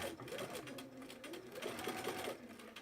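Sewing machine stitching a quilt seam with a presser foot, a steady fast mechanical whir with a rhythmic needle clatter, running continuously and fairly quiet at close range.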